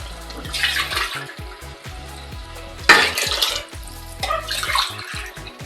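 Water is poured steadily into a cooking pan for mushroom biryani, a close, continuous splashing gush that swells at times. No one speaks.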